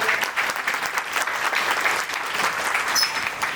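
An audience at a meeting in Lakhisarai, Bihar gives loud, sustained applause, an even wash of many hands clapping steadily throughout with no speech over it.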